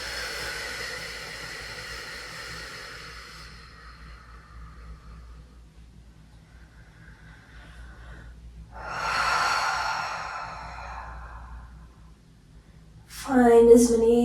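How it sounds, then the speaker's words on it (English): Soft breathing during a yin yoga session: a long, gentle exhale fades out, a short pause follows, then a slower breath in and a brief sharper breath near the end, all close and airy. "Take a soft breath in and a soft breath out."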